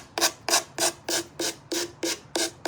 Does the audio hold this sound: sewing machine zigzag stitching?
no